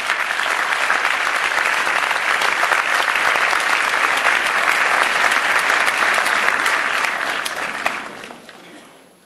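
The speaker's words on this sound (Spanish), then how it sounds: "Vamos a darle un fuerte aplauso al doctor Mario Rueda" An audience at an academic event applauds Dr. Mario Rueda Beltrán, loud sustained clapping from a full room that holds steady for about eight seconds before tapering off into quiet.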